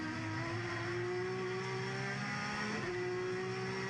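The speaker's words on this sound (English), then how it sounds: "He's followed through by Will Hoy in his Toyota." Touring race cars, a Nissan and a Toyota in the 1994 BTCC, roar along at speed, a loud, steady engine drone with a rising pitch and a brief shift near the end, heard from onboard without commentary.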